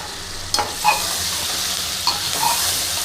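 Onions frying in a pan for a village-style jackfruit sabzi, stirred constantly so they don't stick: a steady close sizzle with a few sharp scraping strokes of the spoon across the pan bottom.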